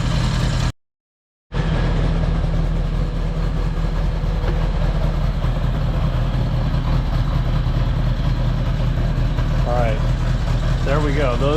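A 1975 Honda Goldwing engine idles steadily after its carburetors are synchronized, a low, even, continuous rumble that cuts out briefly near the start, with a faint voice or throttle blip near the end.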